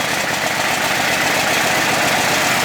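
A Poulan Pro riding mower engine with 764 hours on it runs steadily close by, a loud, constant mechanical drone with no break and no talk.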